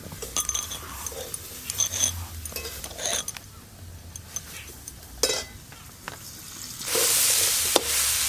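Cut, washed brinjal goes into a pan with egg curry ingredients, giving a steady sizzle of frying broken by clinks and scrapes of a utensil against the pan, with the hiss swelling louder toward the end.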